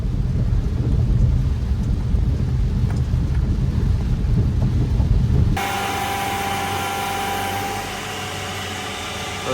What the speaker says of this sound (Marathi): सो गाईस, पाऊस लय वाढला,